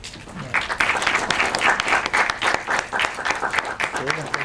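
Audience applause in a Buenos Aires screening hall honoring a filmmaker, dense steady clapping from many hands throughout, fairly near, with a few voices murmuring underneath.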